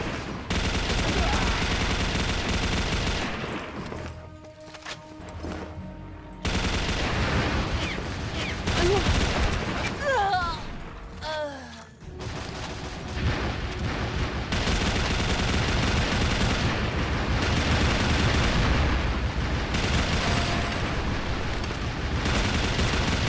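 A gold-black MK5 turbine machine gun fires in an online shooter game, rapid continuous bursts with brief pauses and echoing impacts, loud and dense through the whole stretch.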